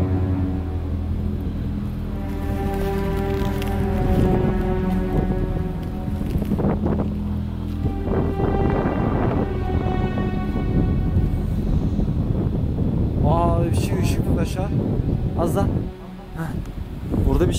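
Outdoor wind near a mosque door buffets the microphone in a steady, rumbling roar that runs the whole time, while someone talks continuously over it.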